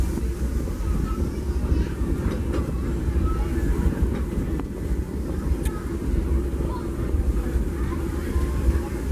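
The Disneyland Railroad excursion train led by locomotive No. 3, the Fred Gurley, rolls along the tracks with a steady, loud low rumble and faint rattles heard from aboard, with wind noise throughout.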